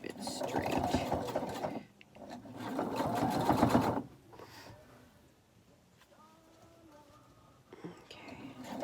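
Domestic sewing machine stitching layered fabric for a PPE face mask, running in two close, steady whirring bursts, then a quieter stretch with faint handling noises before the motor starts again.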